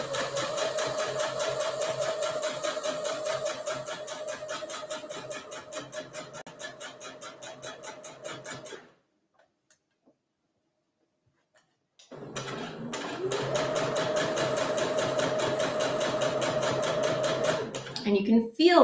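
A sewing machine stitches a fabric coffee cup cozy with a fast, steady mechanical whir and needle chatter, stops for a few seconds of near silence while the fabric pivots, then resumes at the same close, even pace.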